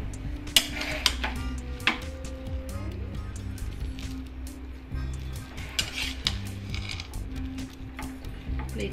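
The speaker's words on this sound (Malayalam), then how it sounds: "ഒന്ന് ഇളക്കി നോക്കാം." A spoon stirring no-onion vegetable pulao in a cooking pot gives soft scraping and light clinks of metal, scattered irregular taps close by over a low steady background hum.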